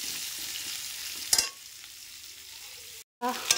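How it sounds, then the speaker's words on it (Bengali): Potato pieces fry in hot oil with a steady, bright sizzle, interrupted by a couple of sharp spatula clinks and a momentary gap, with no voices. "আলু কটা ভেজে নিই।"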